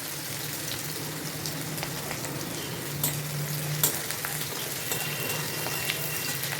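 Onions frying in oil in a pan for a pomfret curry, a steady soft sizzle throughout with a few brief stirring scrapes and clicks near the middle.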